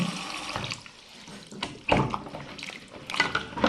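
Hot water runs from a tap into a sink drain in a bathroom with a gurgling blocked waste pipe, a close, uneven splashing and trickling with brief louder gushes.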